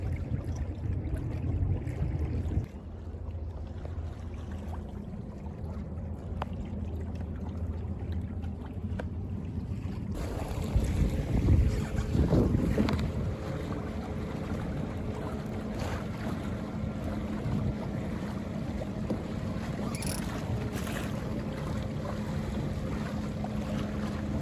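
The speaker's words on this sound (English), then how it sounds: "I caught some fresh breeze going back up, which is nice." Wind rushes over a microphone aboard a Buccaneer 18 sailboat near Rooster Rock on the river, a steady breezy roar that gusts louder midway, with faint water wash and no talking.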